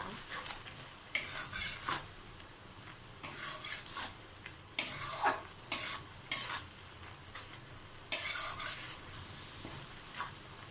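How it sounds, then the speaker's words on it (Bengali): Spice paste with dried red chili powder frying for a chicken Maharani dish, with repeated bursts of spatula scraping against the pan over a low continuous sizzle, close and rhythmic, without talk. "মশলাটাকে আমি 3-4 মিনিট সুন্দর করে ভেজে নেব।"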